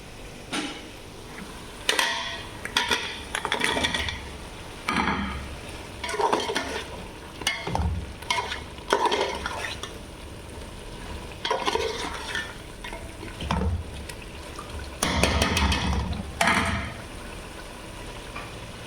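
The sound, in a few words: okra (lady's finger) frying and being stirred in a pan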